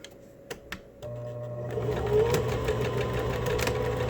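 Sewing machine running a steady straight stitch along a fabric face mask pocket, starting after a few clicks and then humming continuously, close and fairly loud, with no talking.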